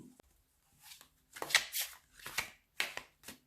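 Tarot cards being shuffled by hand at close range, in soft papery riffles and slides that come in several short bursts with brief pauses between, no talking.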